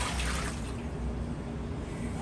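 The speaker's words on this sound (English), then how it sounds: "Now I'm going to dump out the rest of the water." Water being dumped out of a reptile bath tub used for savannah monitor lizards, a steady close splashing wash of liquid with no talk.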